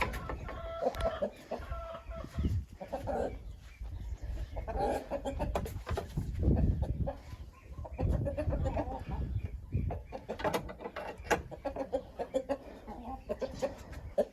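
Hens clucking and chattering steadily at close range, with a rooster's call rising among the busy, overlapping farmyard noises.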